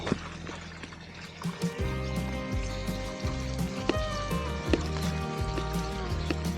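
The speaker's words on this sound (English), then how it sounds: "Look at that water coming out." Water flushes out of a fish pond filter into a bucket, making a continuous splashing, pouring rush. It stays close and moderate under a humming tonal background, with no talking.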